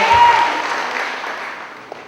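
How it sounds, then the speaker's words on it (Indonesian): Audience at a youth conference in Keningau, Sabah, clapping in a loud burst that fades away over two seconds, with a single sharp click near the end. "Let's give a clap offering to Jesus."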